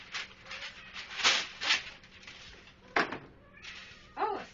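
Several cats meow loudly in a kitchen, a string of sharp, close, repeated cries with short pauses between them.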